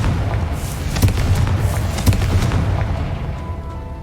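A Confringo fire spell explodes in Hogwarts Legacy, a loud, dense rumbling boom with a few sharp thuds that slowly fades out.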